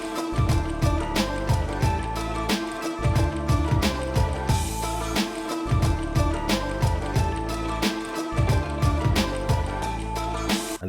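A sampled beat breakdown with a second bass line added underneath, looping chopped chords over heavy low-end pulses and punchy drums, dense and loud with brief dropouts between phrases.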